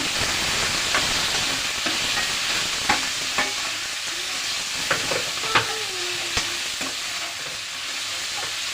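Okra (ladies finger) sautéing in oil gives a steady, dense sizzle throughout, with occasional soft clicks and scrapes of a spatula stirring the pan, close and continuous with no voices.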